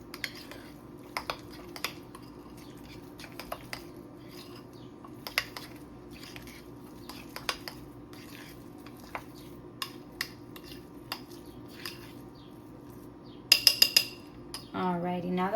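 Meatball ingredients are mixed in a bowl with soft scraping and scattered utensil clinks against the side, faint and intermittent, ending in a louder burst of clatter.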